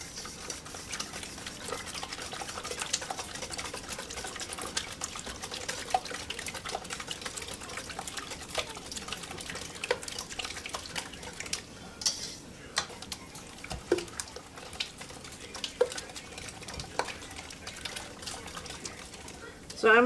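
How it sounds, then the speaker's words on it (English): Eggs are whisked in a bowl for a slow cooker frittata, a continuous rapid scratchy patter of whisk against the bowl that carries on steadily for the whole stretch with small irregular clicks. "I'm going to get these all whisked together."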